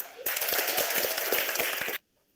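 Classroom applause at a school lesson, a burst of many hands clapping together for about two seconds at moderate loudness, then stopping abruptly into near silence.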